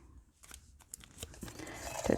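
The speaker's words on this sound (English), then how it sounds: "I'm just going to round the edges on this with my scissors" Scissors round the edges of paper during a scrapbooking craft session, producing a quiet series of small snips and crunchy paper cuts that build toward a louder snip at the end, with no talking.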